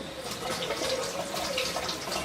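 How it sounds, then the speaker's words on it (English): Water streams steadily from a kitchen tap while hands are washed, a continuous close splashing rush that stays even throughout with no talking. "Wash your hands."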